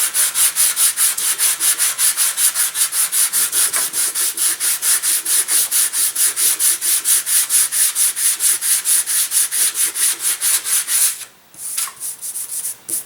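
Rhythmic back-and-forth sanding on the wing edge of a balsa and foam glider, tapering it down: close, loud, evenly paced scrubbing strokes that pause briefly near the end before a few final passes.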